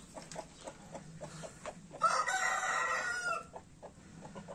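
A young rooster that has not yet learned to crow and a hen cluck close by, with soft scattered clucks and one louder, longer squawking burst in the middle.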